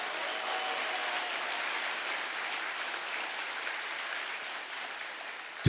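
Steady applause from a church congregation following a pastor's testimony, a broad continuous wash of many hands heard from within the hall, holding even throughout and ending with a single thump.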